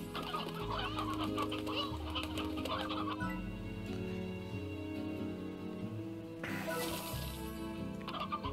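Chickens clucking on a ranch in the Slime Rancher video game, steady overlapping clucks under continuous game music, with a brighter burst of sound near the end.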